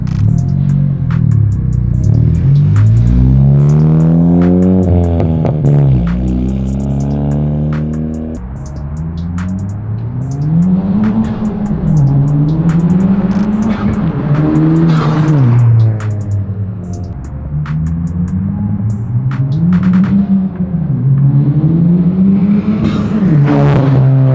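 A 10th-gen Honda Civic Si engine fitted with a PRL Cobra cold air intake revs up and down close by, rising and falling in repeated pulls with a throaty intake sound.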